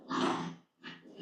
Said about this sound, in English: my brain has to process your growls